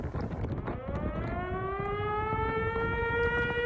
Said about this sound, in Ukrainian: Чуєте сирену?